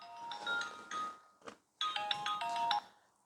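A phone ringtone plays a repeating bright electronic melody for an incoming call, two phrases split by a short gap, moderately loud and alone in a room where a treadmill is being demonstrated.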